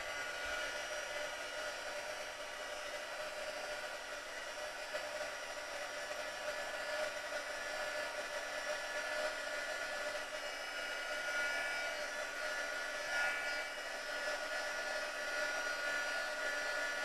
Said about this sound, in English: I'm just going to blast this with my heat tool